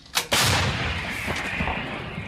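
A sharp loud blast of an artillery gun firing on the front line in Kharkiv region, followed by a second booming report and a long rumbling echo that slowly fades.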